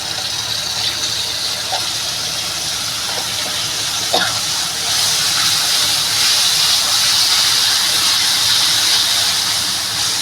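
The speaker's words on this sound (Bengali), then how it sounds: "এই যে দইটা দইটা আমি ঢেলে দেবো" Yogurt with turmeric poured into a hot pan gives a steady, loud, broadband hiss and sizzle lasting the whole stretch, with a couple of faint clinks early on and no talking.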